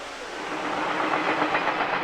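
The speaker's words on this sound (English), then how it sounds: "the increase of passenger trains like the one I am riding" A passenger train rolls along its rails in China, filling the space with a steady broadband rumble and hiss from inside the carriage, with faint rhythmic clatter running underneath.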